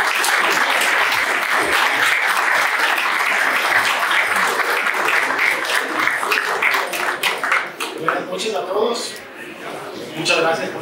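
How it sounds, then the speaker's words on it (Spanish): Loud, sustained applause from an audience at the opening of a new Ford dealership in Quito, with dense clapping that thins toward the end and some voices mixed in. "Iniciamos con un fuerte aplauso a Rodrigo Sevilla."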